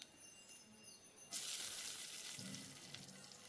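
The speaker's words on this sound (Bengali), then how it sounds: "কালো জিরে ফোড়ন দিলাম। আর 2টো কাঁচা লঙ্কা দিলাম।" Black cumin seeds and two green chillies hitting hot mustard oil, a faint background hum that bursts into a sharp, steady sizzle and crackle partway through.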